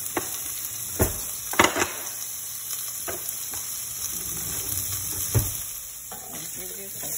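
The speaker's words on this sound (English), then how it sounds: "hear that sizzle, our sausage into our pan" Sausages sizzle steadily in a hot pan, with a few sharp clinks and scrapes of a utensil stirring through the crackle.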